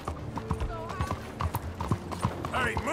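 Horse hooves clip-clop at a steady riding pace in Red Dead Redemption 2, close and fairly quiet, under someone talking in German.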